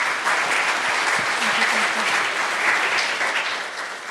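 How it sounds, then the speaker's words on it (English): A tech-conference audience breaks into sustained applause, a dense, even wash of many hands clapping that holds steady and then tapers off slightly toward the end. "One more time, round of applause"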